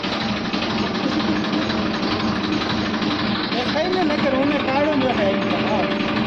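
A tractor engine runs steadily at a village farm during groundnut work, a constant mid-pitched idling drone with voices talking over it.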